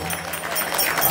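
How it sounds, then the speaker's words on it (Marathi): Audience clapping at a Marathi kirtan, a dense, steady patter of many hands filling a short stretch with no clear break. "टाळी वाजवा सर्वांनी कीर्तन."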